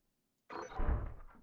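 A door opening in the horror co-op game Lethal Company: after a moment of silence, a single low rumbling slide with a heavy thud, fairly quiet and lasting about a second.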